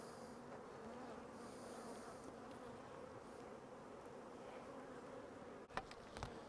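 Honeybees buzz steadily in an opened hive being inspected, with drones crawling on the frames, a soft continuous drone up close and a brief knock of handling near the end.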